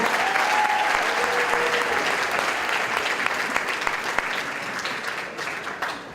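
An audience at a live storytelling show applauds steadily for a performer, a full wall of clapping that stays loud throughout and eases off slightly at the end.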